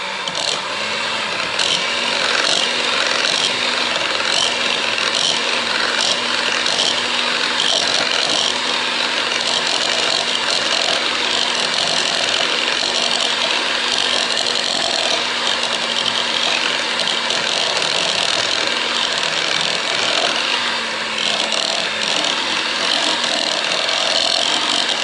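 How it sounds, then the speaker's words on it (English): An electric hand mixer whirs steadily and loudly for the whole stretch, a constant buzzing motor drone with no pauses. "combine it together using a hand mixer"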